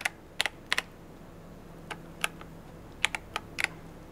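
Keys pressed one at a time on a KZZI K75 Pro 75% mechanical keyboard, giving about a dozen crisp, close clicks in irregular bursts with short pauses, heard alone in a quiet room.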